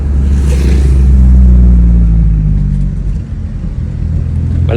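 A Mitsubishi Lancer EX with the 4B11 engine and manual gearbox pulls uphill, its engine drone loud and close as it rises steadily through the gear.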